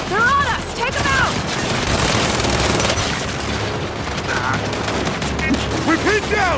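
Turret gunfire in the Gears 5 video game, a loud, sustained hail of automatic shots and booms filling the scene, with shouted voices over the barrage.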